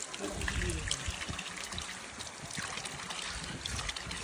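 Water trickles and splashes steadily close by as feet are washed, a soft continuous pour with faint murmuring voices in the background.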